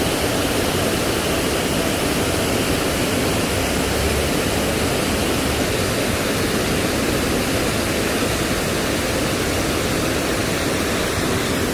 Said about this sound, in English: Fantastic water flow down here.